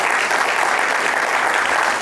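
Sustained audience applause at a comedy sketch show, a dense, loud, even wash of clapping with no break from start to end.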